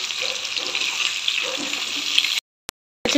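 Chicken pieces for a chicken curry frying in hot oil, a steady dense sizzle and bubble that runs close and even, then drops out briefly to near silence with one short click before the crackle resumes.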